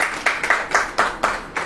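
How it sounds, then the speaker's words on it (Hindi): A church audience claps in a series of sharp, rhythmic bursts, roughly seven claps in under two seconds, loud and close with no talk over them. "ताली बजाओ।"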